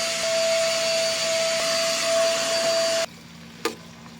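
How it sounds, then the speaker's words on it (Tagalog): A vacuum cleaner runs across a home floor with a loud steady whine and tonal hum, then cuts off abruptly, leaving a quieter background and a brief clunk. "nagva-vacuum na nga din ako sa sahig namin"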